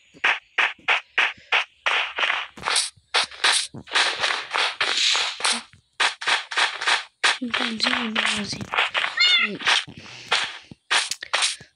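A cat in the video game Minecraft meows again and again, a long run of short, close, loud calls in quick succession with brief pauses between them.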